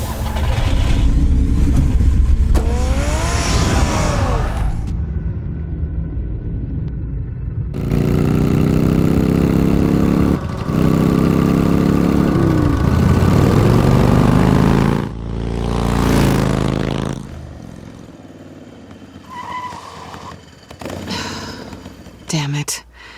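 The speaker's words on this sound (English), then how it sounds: "Get the car ready, Alfred." A car in a Batman video game revs and pulls away, the engine rising and falling through several loud bursts among other game sounds, with voices breaking in at times.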